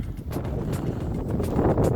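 Blizzard wind blows outdoors, a loud, steady gusty rumble buffeting close to the microphone without a break.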